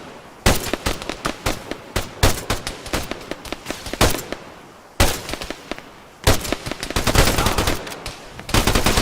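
Machine guns fire in Arma III in long, loud, close bursts of rapid shots, with brief pauses between them and sharp, cracking echoes.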